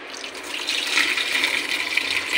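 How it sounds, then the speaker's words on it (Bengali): A rohu fish head being rinsed under running water, a steady close splashing gush of tap water over the fish, continuous and fairly loud with no talking. "আমি এখন মাছটি ভালো করে"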